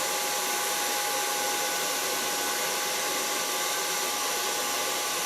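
A hair dryer blows close and steady while drying a man's longer hair, its even whooshing hiss holding without a break. No one speaks.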